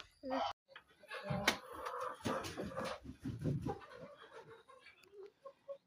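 Chickens and roosters kept apart in a farmyard pen cluck and call at close range, scattered irregular clucks and squawks with brief pauses between.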